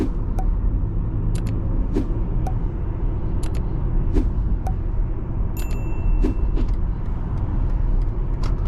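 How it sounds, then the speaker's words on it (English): Interior road noise in a 2024 BMW iX xDrive40 electric SUV on the move, a steady low rumble of tires and wind throughout with occasional faint ticks and brief higher tones, no talking. "We're gonna get off cruise control and just go for a drive here."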